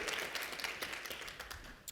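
An audience at an opening keynote applauds, producing a fairly faint, continuous patter of many hands clapping that tapers slightly toward the end.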